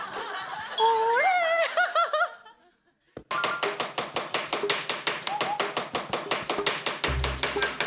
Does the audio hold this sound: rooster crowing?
no